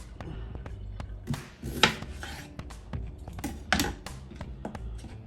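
A knife cuts washed mushrooms into wedges about half an inch thick on a cutting board, giving soft, irregular chopping taps and rubs up close, with a couple of sharper strokes.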